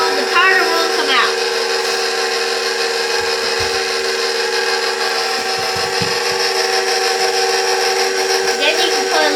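An electric mixer whirring steadily and close while beating snickerdoodle dough, a constant motor hum with faint knocks and brief voices in the background.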